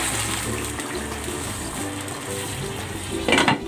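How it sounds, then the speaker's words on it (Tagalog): Water goes into a hot pan of chicken afritada. A steady close sizzle runs throughout and ends in a brief, louder splashing rush near the end. "Ilagay na tayo ng tubig."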